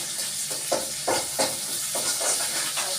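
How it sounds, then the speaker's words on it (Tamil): Sardines fry on a hot dosa griddle with curry leaves, a steady hiss with soft bursts of sizzling and stirring at close range, alone. "நான் இன்றைக்கி வந்துட்டு தோசைக்கல்லில் போட்டு வறுத்து எடுக்க போகிறேன்"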